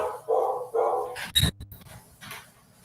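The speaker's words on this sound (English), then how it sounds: "My dogs hear somebody outside, so they're barking" Several dogs in a home barking at someone outside, probably a delivery: a few sharp bursts near the mic in the first half and a loud yelp around the middle, then quieter movement with no talking.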